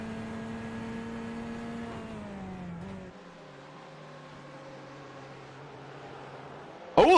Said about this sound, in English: The quiet car, the Chevrolet, does have a nice shift sound though.